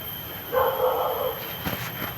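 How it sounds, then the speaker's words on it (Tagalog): Stray dogs outdoors in a Philippine neighbourhood bark in one sustained, moderately loud burst, followed by a couple of fainter yips against a steady background hum. "So may mga asong gala dito."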